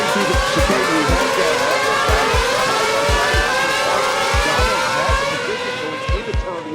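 Race cars roar through a chicane in a dense, continuous wall of engine noise, with rapid gear shifts and revs rising and falling as the cars pass nearby, over loud steady track noise.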